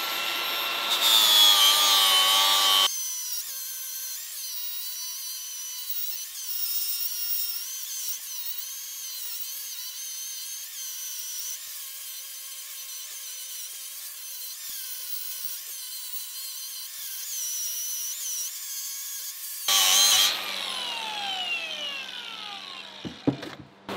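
A flap disc on an angle grinder grinds down a weld on a metal tube, a loud sustained whine with a brief higher-pitched burst at the start and a spin-down and restart near the end.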